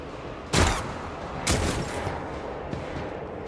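Gunfire in Warhammer 40K: Rogue Trader: two loud, sharp blasts about a second apart, each with a crackling burst and fading tail, followed by a fainter third report.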